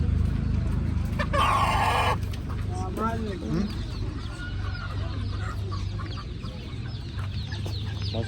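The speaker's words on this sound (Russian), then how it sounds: "Это самые лучшие птицы для яиц." Chickens at an outdoor poultry market cluck in short bursts over a steady background murmur and hum, with a brief louder noise early on and the calls fairly close.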